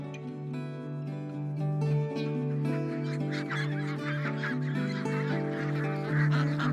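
A flock of Maremma ducks on a farm honks and quacks continuously nearby, a dense overlapping chorus of nasal calls.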